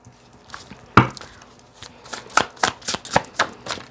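Tarot cards being shuffled and riffled by hand, a run of crisp papery slaps and flutters in an uneven rhythm, close and clear with no voice over them.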